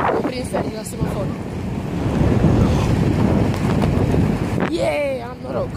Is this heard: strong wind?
yes